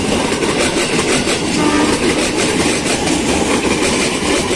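A series 47 commuter train bound for Angke station passes close and loud, a steady roar of rolling wagons and clattering wheels with no voices.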